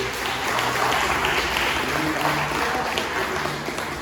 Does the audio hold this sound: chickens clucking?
no